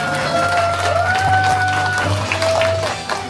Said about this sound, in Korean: 네, 큰 박수 부탁드릴게요.